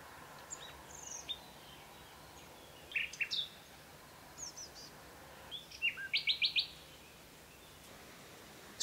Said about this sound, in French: Un rossignol chante toujours.